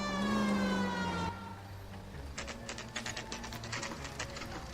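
A police car siren from the video game L.A. Noire wails loudly in rising and falling sweeps for about a second, then stops, leaving engine rumble and a string of sharp clicking bursts.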